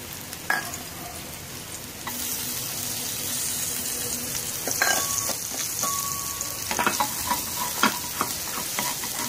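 Garlic and ginger sauté in a pan for a chicken teriyaki sauce, giving a steady oily hiss with clinks of a utensil against the pan and brief scraping stirs, no speech.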